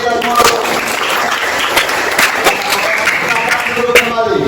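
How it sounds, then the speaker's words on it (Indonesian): A classroom audience of teachers and students claps in a dense, continuous round of applause, fairly close, with faint voices mixed in. "tepuk tangan untuk kita semua"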